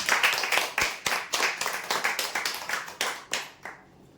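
Close, rhythmic clapping from a few people at a prize draw winner announcement, sharp claps in quick succession for about four seconds before fading out.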